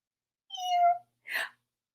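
A human voice imitates a kitten with a single drawn-out meow, followed shortly by a brief breathy sound, close and clear against silence.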